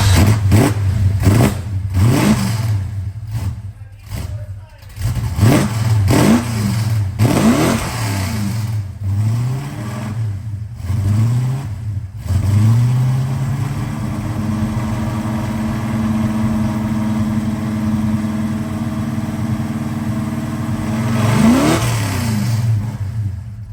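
A 408 stroker-swapped 1974 Dodge Dart Sport V8 refusing to idle, loud and close, with repeated sharp throttle blips and rev drops at first, then a held higher-rpm drone that swells again near the end.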